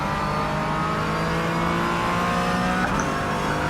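Race car engine in a sim racing game, a loud sustained high-pitched drone with steady harmonic whine, shifting pitch briefly near the end as the car accelerates through a lap.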